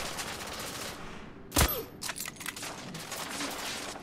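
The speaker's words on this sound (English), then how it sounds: "who's shooting me?" Gunfire aimed at the player in the video game The Order: 1886, a sharp loud shot followed by scattered quieter bursts of shooting.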